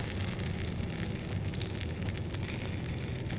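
A mutton cutlet fries in a pan, giving a steady, close hiss of sizzling oil that runs evenly throughout with no pauses or talk.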